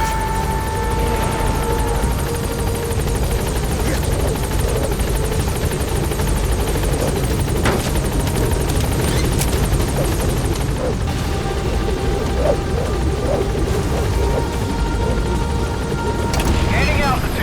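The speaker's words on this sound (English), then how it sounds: "Board the chopper when you're ready for the mission." A helicopter in the game Metal Gear Solid V hums and thrums with a continuous loud rotor drone that holds steady throughout, while in-game voices talk over it at times.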